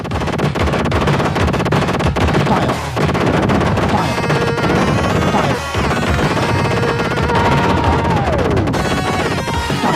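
Sega flight combat video game enemy fire and missiles: dense, constant rapid gunfire and explosions with a falling electronic tone, loud and busy throughout with game music mixed in.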